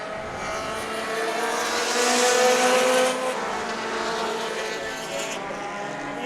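Mini stock race cars at Stockton 99 Speedway roar past in a pack, engines swelling to a peak and then fading as they pass, over steady track ambience with no talk.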